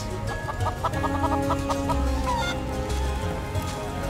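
Game chickens in Final Fantasy VII Rebirth clucking in quick repeated bursts, close and fairly loud over a busy layer of game ambience and music.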